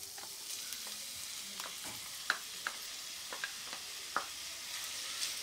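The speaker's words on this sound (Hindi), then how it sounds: "अच्छे से भूनेंगे हम गाजर और चुकंदर को" Grated carrot and beetroot fry in ghee for gajar chukandar halwa, giving a soft, continuous sizzle close up, marked by occasional sharp clinks and scrapes as the spoon stirs the pan.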